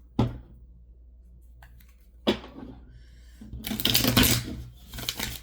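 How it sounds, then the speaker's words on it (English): Tarot cards being shuffled up close: two sharp riffles separated by quiet, then a longer, busier flurry of flicking and slapping. "Couple quick little shuffles."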